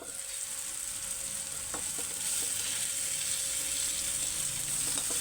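Faint, steady sizzle of tomato masala simmering in a pan for bundi masala curry, a soft continuous frying hiss with a few light stirring clicks and no talking.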